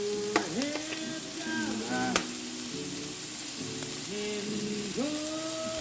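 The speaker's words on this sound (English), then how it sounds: "Sweat down these onions" Onions sweating in a pan as breakfast tapas are prepared give a soft, even sizzle with intermittent scraping stirs and a few light clicks of a utensil, close and moderately quiet.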